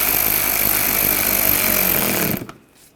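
A power tool drives screws into the front bumper cover trim of a 2013-2022 Buick Encore 1.4L, a loud, sustained whirring buzz up close that cuts off abruptly after about two and a half seconds.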